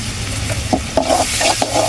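Ginger paste goes into a pan with browned onions and garlic paste, a loud close sizzle of frying broken by a few sharp stirring scrapes and clinks, with no voices.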